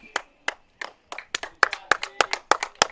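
A small group of fans at a freshman high school baseball game, Tam versus San Marin, claps sparsely and irregularly for a pitcher leaving the field, the claps nearby and growing slightly quicker.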